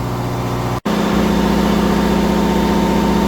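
Onan DJC diesel generator running steadily under a load bank test, a loud, constant low engine drone with a brief dropout near the start, no talking.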